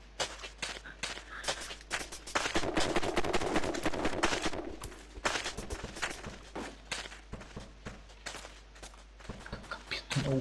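Rapid bursts of gunfire in the video game Block Post crackle and pop continuously, with footsteps and a faint voice mixed into the busy, loud firefight.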